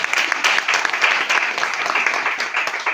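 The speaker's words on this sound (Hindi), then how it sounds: "एक बार ताली होना चाहिए कि नहीं होना चाहिए?" Audience applause breaks out at a business leadership event, a dense, steady wash of many hands clapping throughout, fairly close and loud, with no talk over it.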